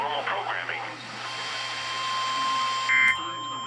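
A National Weather Service weather radio warning alarm test: after a voice at the start, a steady, piercing electronic alert tone holds for a couple of seconds, with a brief brighter beep near the end.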